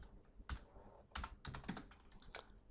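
Code being typed on a computer keyboard during a beginner Python lesson: a quick run of crisp, close key clicks in an uneven rhythm, with no talking.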